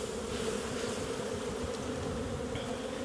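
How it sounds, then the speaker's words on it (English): Dense, continuous buzzing of many honey bees shaken from a hive frame up close, a steady droning hum with no voices. "shake them down"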